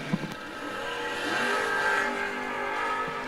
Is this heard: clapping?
no